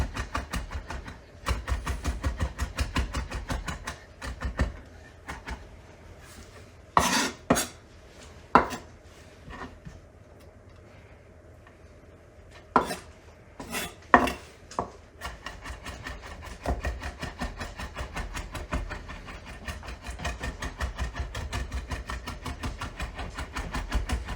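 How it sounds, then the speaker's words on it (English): A knife chops ingredients finely on a wooden board for Puerto Rican rice and beans, with quick bursts of rapid close taps separated by pauses and scraping rubs. "I'm going to chop it as fine as I can."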